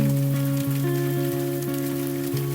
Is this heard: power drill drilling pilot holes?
no